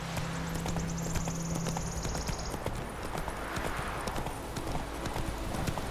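Rapid galloping hoofbeats of a horse in the video game The Witcher 3 pound steadily throughout, close and prominent over a constant bed of game ambience, with a brief tonal hum early on.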